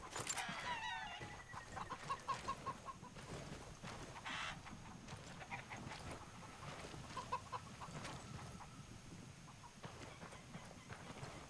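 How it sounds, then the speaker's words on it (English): Chicken clucking in the Ghost Recon video game, a few faint clucks scattered over quiet ambient noise and soft thuds. "Chicken."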